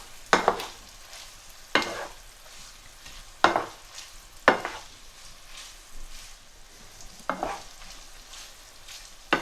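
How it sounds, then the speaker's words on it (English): Minced beef stir-fried with ginger garlic paste in a karahi, a steady sizzle running throughout with a handful of sharp, loud scrapes and clanks of the spatula against the pan at irregular intervals. "I'm going to stir fry for about 5 minutes."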